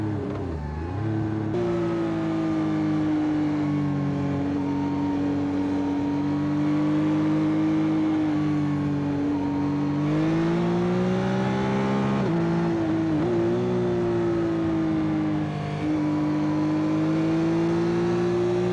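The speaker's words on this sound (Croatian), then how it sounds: "Strašno se motor dobro vozi." A steady Yamaha XSR 900 (2025) motorcycle engine drone while riding, with a smooth, sustained hum that rises and dips slightly as the throttle shifts, heard close and continuous throughout.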